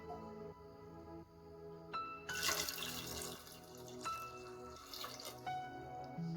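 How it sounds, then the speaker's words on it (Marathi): Water poured into a pressure cooker of peas and potatoes, a quiet stream splashing and gurgling with a few clinks of the vessel, no talking. "पाणी ओतून घेऊया"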